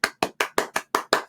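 Seven sharp, evenly spaced hand claps ring out alone and close, like a single person applauding slowly.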